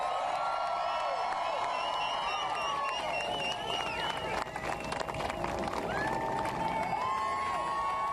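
A large outdoor crowd cheers and shouts continuously in welcome for Vice President-elect Mike Pence on his return to Indiana, a dense, steady roar with whoops and scattered high voices rising over it.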